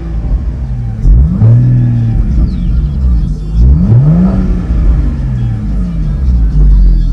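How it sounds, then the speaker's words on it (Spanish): A Porsche Boxster's engine and exhaust rev up in two loud, rising pulls, each dropping back to a deep rumbling idle, heard close by. "Y nada más escuchen cómo suena este auto con sus escapes."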